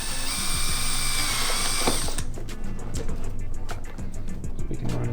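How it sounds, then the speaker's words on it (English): A power drill bores a hole into the body of a 2013-2018 Nissan Altima during stereo wiring work, a loud steady whine for about two seconds that gives way to ratcheting clicks and handling noise. "let's get our drill, put a hole right there"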